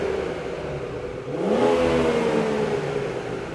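A stock BMW 440i with a gasoline particulate filter, its exhaust rising in a single smooth rev from a steady idle, swelling to a peak and easing back, heard close and alone.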